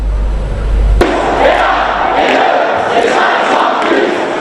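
A large crowd of supporters cheering and shouting after Macron's first-round French election win, a dense roar that swells after a sudden start and holds loud throughout.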